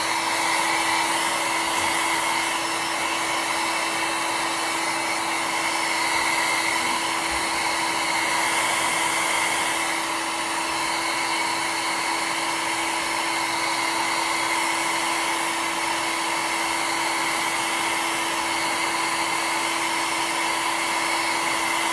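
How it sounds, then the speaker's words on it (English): A blow dryer running continuously at close range to dry a coat of paint on a fake cake, a loud, steady whooshing hum with only slight changes in level. "Let me hit that with the blow dryer. So we can get the cake on top of it."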